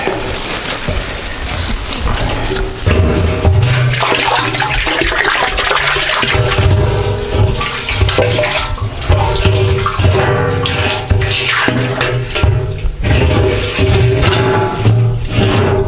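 Water pours steadily from an old, stiff Soviet-era hose into a tank. The rushing, splashing flow is loud and close and runs unbroken the whole time, with a low gurgle that deepens after the first few seconds.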